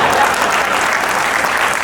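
An audience at a Hindi comedy poetry recital in Surat applauds, with dense, sustained clapping from a large crowd that stays steady throughout.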